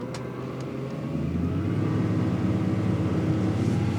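Twin engines on a Capelli Tempest 1000 powerboat accelerate hard during a sea trial off Portugal, a loud steady roar that swells after the first second and holds strong, with no talking.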